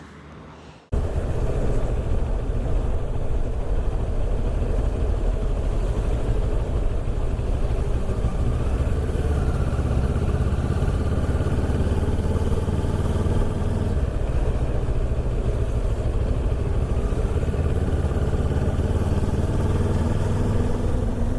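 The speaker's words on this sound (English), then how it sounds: "Quite a nice engine tote for a little parallel twin." A CF Moto 650 MT parallel-twin motorcycle engine runs steadily and loudly throughout after a brief quiet start, its low, even drone holding near and constant.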